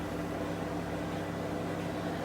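A microwave oven running while it cooks bread pudding, giving a steady, even mechanical hum with a broad airy whir that holds unchanged throughout, no voices over it.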